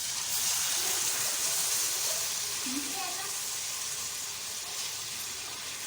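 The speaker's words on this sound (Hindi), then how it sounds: "और पानी डाल देते हैं।" Water poured into frying masala in a pan sends up a steady, broad hiss of steam and sizzle, continuous and close throughout.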